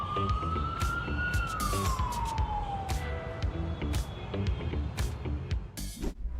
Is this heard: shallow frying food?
no